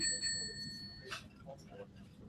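A single small timekeeping bell at a debate dings once and rings for about a second, faint and slightly distant, with soft background murmur underneath.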